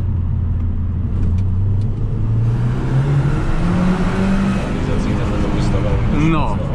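A 2005 Opel Vectra GTS 2.0 turbo with 332 hp pulls hard, the engine note climbing steadily through the gears from inside the car, loud and continuous, with someone talking over it.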